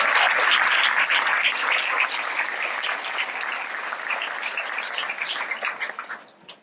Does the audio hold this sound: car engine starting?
no